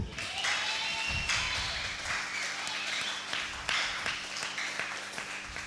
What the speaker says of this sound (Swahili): Hebu ongeza tena makofi kwa baba yetu wa mbinguni.